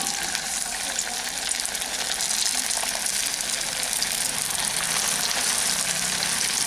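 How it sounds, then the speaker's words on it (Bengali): Steady, loud crackling sizzle of food deep frying in hot oil, continuous and even throughout with no talking. "এখন এগুলোকে ভাজার জন্য দিয়ে দিলাম"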